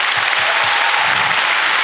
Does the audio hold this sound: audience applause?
yes